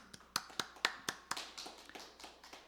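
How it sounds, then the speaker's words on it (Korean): A small congregation at a Sunday church service claps in thanks to the pastor, a handful of scattered, quiet claps that thin out quickly. "말씀을 전해주신 목사님께 감사의 박수를 드립니다"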